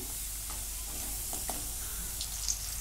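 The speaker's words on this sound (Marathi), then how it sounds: "बटाटा पण चांगला तांबूस रंगावरती तळून घेतलेला आहे" Potato pieces fry in hot oil with a steady close sizzle and hiss, a few faint stirring clicks, no talking.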